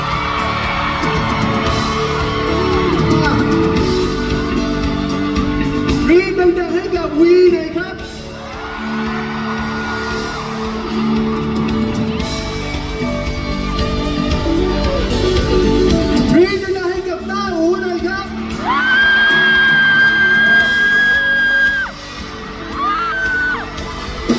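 A crowd yells and whoops in bursts, with loud shouts rising and falling over amplified speech and music, punctuated by a few sharp bangs.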